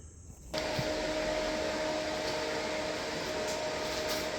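Welding machine switching on and running loud while a cold air intake for a 2017 Chevrolet Sonic 1.8 is tack welded, a sudden onset followed by a steady, whining hum with a clear tone.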